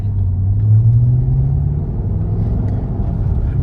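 A Jaguar two-door with a roughly 5-liter V8 pulls away under acceleration, a loud steady low rumble from inside the cabin that eases slightly after the first couple of seconds.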